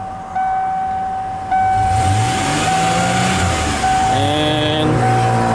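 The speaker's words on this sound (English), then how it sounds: "now we need to rev this thing all the way to the top and let it fall" A 1994 Ford Ranger with an EGR valve stuck open revs up hard to the top and then lets the engine fall back, a loud close engine surge over a steady high whine, with rising and falling tones.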